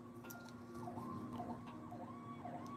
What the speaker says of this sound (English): That's why you hear an ambulance coming by.